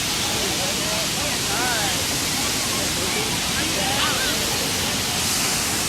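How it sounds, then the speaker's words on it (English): Roswell Mills waterfall roars heard from the top of the falls, a loud, steady broadband rush of falling water filling the whole clip, with faint voices barely audible beneath it. "We're at the top of the waterfall."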